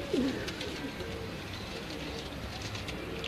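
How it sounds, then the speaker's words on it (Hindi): Blue Kamgar pigeons coo nearby, a low throaty murmur over a constant hiss of background noise. "कमगर कबूतर नीलों के"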